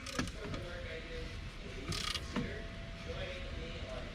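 Ratchet snugging down the oil drain plug on a 2015-2020 Nissan Murano, a few quiet mechanical clicks and creaks close by under a steady low hum.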